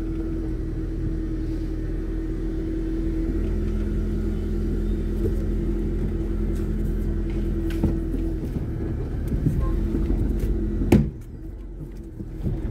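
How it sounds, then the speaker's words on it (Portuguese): Car pulled out of a parking spot, a steady low engine idle and rumble heard from inside for several seconds, with faint creaks and a sharp knock near the end before the drone drops lower; no speech. "Só vou tirar o carro aqui"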